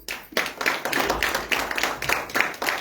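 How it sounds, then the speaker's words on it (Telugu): At a Telugu Bethel church service, the congregation claps together in a steady, rhythmic beat of sharp hand claps, with no talking over it. "మరి వారి కొరకు ఒక్కసారి క్లాప్స్ కొడదామా?"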